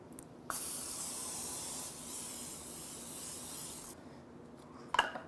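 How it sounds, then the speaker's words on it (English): Cooking spray hissing from an aerosol can onto a waffle iron, one long continuous close spray burst of about three and a half seconds, followed by a short clatter near the end. "And we're just gonna spray it."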